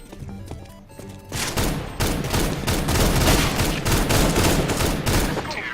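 Negev machine gun in CS:GO firing long sustained bursts of rapid, loud, sharp shots that start abruptly after a moment of quieter game sound.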